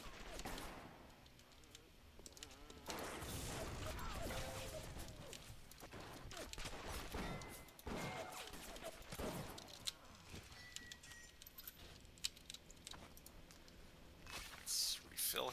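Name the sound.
gunfire from security bot fight in BioShock video game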